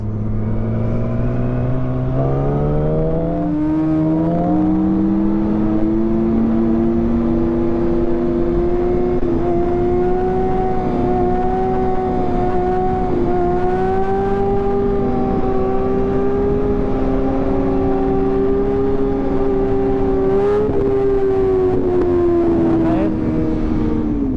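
A motorcycle engine idles and revs steadily and loudly up close, its droning tone rising and holding for over twenty seconds, with a voice briefly audible underneath.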